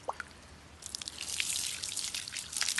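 Hot spring water scooped with a bucket is poured out, splashing and trickling close by, starting with a few drips and building into a steadier pour.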